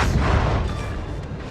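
Pommern battleship secondary guns firing in World of Warships, a dense, continuous rumble of rapid naval cannon shots, loud and close, with no voices over it.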